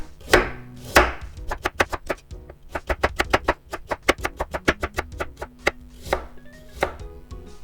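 Kitchen knife slicing carrots diagonally on a cutting board, a few slower cuts followed by a quick, even run of crisp chops, close and clear with no voices.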